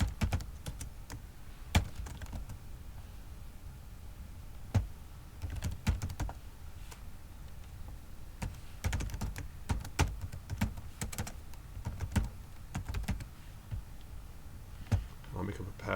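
Rapid, irregular keystrokes on a computer keyboard while entering account details, a steady patter of close clicks with brief pauses and a few louder key thunks throughout.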